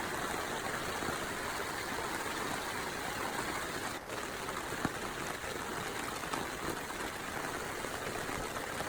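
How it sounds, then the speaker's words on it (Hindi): Heavy rain pours steadily on a forest campsite, a dense, even wash of drops and running water that goes on without a break, close and fairly loud, with no voices. "कितनी तेज़ बारिश हो रही है"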